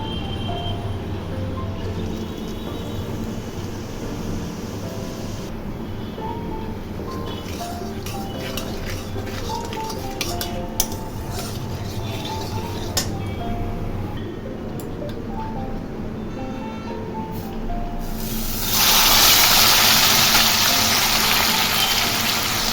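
Cumin seeds sizzle and crackle in hot oil for a home-style chicken curry, a steady close frying hiss with scattered pops and utensil clinks, swelling into a louder rush near the end.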